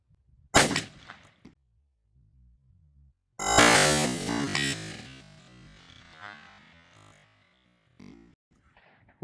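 A Browning Maxus shotgun fires Remington 34 gram No. 5 shells: one sharp, loud report near the start, then a second heavy blast with a long ringing decay outdoors, followed by quiet.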